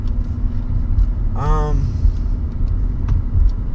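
A BMW 323Ci engine rumbles steadily from inside the cabin while driving, with a brief rising whine midway as it changes pitch during a gear change, and a voice speaks over it.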